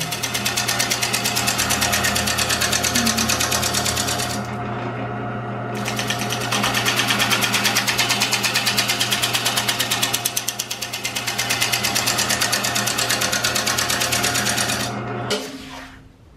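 A Jet 1440 lathe spins a eucalyptus wood bowl with a steady, loud motor hum and rhythmic whir that continues throughout, briefly easing and resuming before slowing down at the end.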